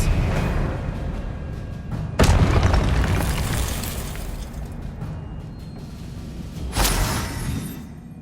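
Two heavy magical blasts from the Expelliarmus disarming spell in Hogwarts Legacy boom close and loud, each a sharp impact with a long rumbling tail, separated by several seconds of ambient game sound.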